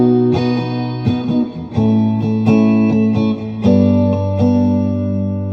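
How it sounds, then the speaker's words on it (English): Electric guitar notes and chords ring out through the plate reverb setting of an Electro-Harmonix Oceans 3-Verb pedal, with each struck chord sustaining into a loud, shimmering, slightly metallic tail. "And then let's try plate reverb."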